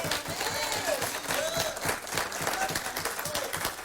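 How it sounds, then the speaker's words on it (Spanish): A church congregation claps in a continuous, lively round of applause, with scattered voices mixed into the crowd noise. "Dale ese aplauso fuerte al Señor."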